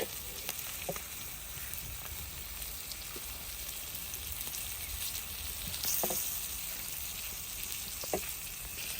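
Stuffed pomfret frying on a tawa, a steady soft sizzle with occasional small crackles and pops, fairly quiet and continuous without talk.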